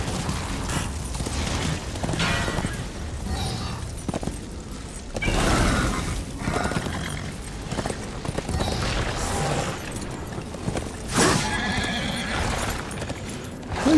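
Horse neighs and hoofbeats in the video game Darksiders Warmastered Edition, heard in repeated loud bursts among busy game effects, with no talking.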